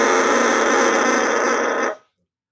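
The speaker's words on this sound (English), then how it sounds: "It is a bassoon reed that is made by me." A handmade cane bassoon reed played alone gives a loud, buzzing, raspy crow held steadily for about two seconds, then cuts off abruptly into silence.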